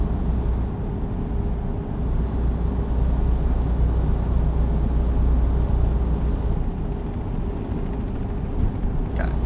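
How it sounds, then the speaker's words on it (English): A helicopter passes overhead while driving a truck on a busy morning freeway in American Truck Simulator. It is a steady, loud, low rumbling drone that lasts throughout, with no talking. "Got a chopper flying overhead"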